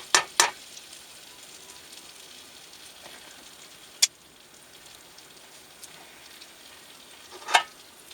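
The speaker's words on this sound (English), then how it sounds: "Trying to melt the butter." Butter melting in a pan on a gas canister stove inside a truck cab, giving a faint, steady low sizzle with a few sharp clicks or knocks at the start, middle and end.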